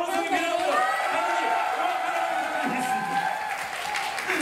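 Audience at a K-pop group showcase claps and cheers steadily for several seconds, a dense continuous wash of applause with scattered shouts and whoops.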